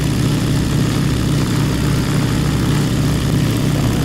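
Steady, loud drone of a Winjeel military spotter aircraft's propeller engine in flight, heard from inside the cockpit, continuous with no breaks or voices.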